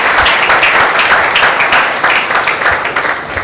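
A church congregation at a Tuesday meeting gives loud, sustained applause, with dense continuous clapping filling the whole stretch and easing slightly toward the end.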